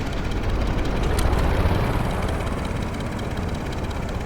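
The SH-29 compact naval helicopter in Stormworks gives off a steady, even drone of engine and rotor, a constant mechanical hum with no breaks or voices.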